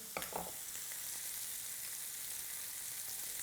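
Radishes fry in a pan with a soft, steady sizzle. A couple of light clatters from the pan or utensil come at the start, then the hiss runs on evenly and faint on its own.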